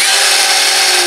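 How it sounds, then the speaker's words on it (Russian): An Interskol Multimax multi-tool cuts through a metal bolt with a loud, continuous, harsh buzzing grind close up, with no pause across the whole short stretch. "Я реально отрезал вот такой болт."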